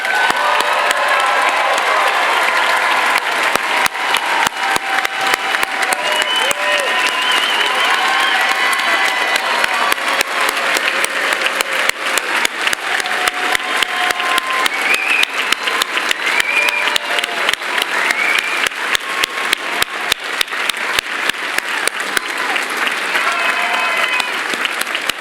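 Sustained applause from a large audience at the Vermont Law School 46th commencement for the class of 2022, dense steady clapping with occasional cheers, filling the whole stretch without letting up.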